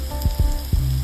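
Butter melting and sizzling in a pan for stuffed baked potatoes, a steady close frying hiss broken by a few low thumps and knocks, no talking.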